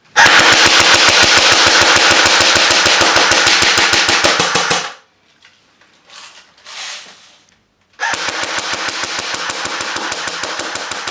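A CYMA CM028A airsoft AK-47 fires long, rapid full-auto bursts of sharp, loud, evenly spaced mechanical cracks, with a quieter gap of faint handling clicks between two strings of fire.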